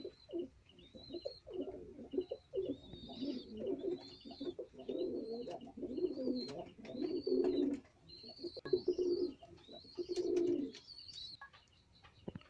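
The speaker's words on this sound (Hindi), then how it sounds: "और ये मेरा कालशीरा कबूतर है, मादी है," A female Kalshira high flyer pigeon coos repeatedly in soft, low rolling phrases from close by, with some faint higher chirps from other birds in the loft behind it.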